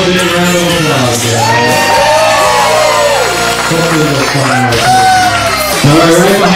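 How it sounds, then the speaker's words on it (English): Wedding guests at an outdoor garden wedding reception clap, whoop and shout as couples are announced, a loud, close, continuous burst of cheering with bright, rising yells over steady applause. "give them a big round of applause"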